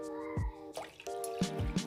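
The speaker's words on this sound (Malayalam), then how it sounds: "വെള്ളം ഒഴിച്ചു കൊടുക്കാം" Water is poured into a pan while making rava kesari in a home kitchen, producing faint splashing and dripping bursts over a quiet background hum, with no voices.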